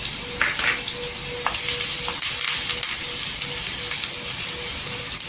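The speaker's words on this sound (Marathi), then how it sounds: "कांदा गोल्डन कलरवर तेलावर परतून घ्यायचा" Onion and curry leaves fry in a spoonful of oil in a kadhai on a gas stove, a steady close sizzle with faint stirring clinks throughout.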